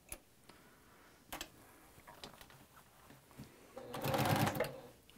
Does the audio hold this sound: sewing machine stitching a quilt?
yes